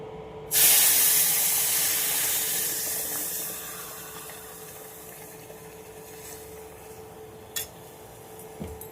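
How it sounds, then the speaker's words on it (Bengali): Milk poured into semolina frying in ghee hits the hot pan with a sudden loud hiss and spray that slowly fades over several seconds, with a couple of faint clicks near the end. "সুজি এর মধ্যে দুধ দিয়ে দেবো, ঘি দিয়ে ভাজছি"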